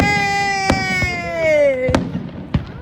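A fireworks grand finale at a holiday display, with several sharp booming bursts spaced through the clip over steady whistling, crackling streamers. Voices talk excitedly in the background.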